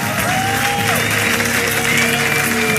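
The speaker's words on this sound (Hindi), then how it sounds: "जब वो अपना स्टैंड अप कॉमेडी शो करता, लोग तालियों से उसकी हौसला अफजाई करते।" A stand-up comedy audience breaks into applause, a dense steady wash of clapping that holds for about three seconds, with faint tonal sounds running underneath.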